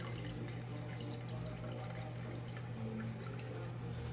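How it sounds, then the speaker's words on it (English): Liquid from a seafood boil drains steadily, a constant faint rush of pouring water with a low hum underneath, unbroken for the whole stretch with no talk. "now I'm gonna drain the rest of the liquid"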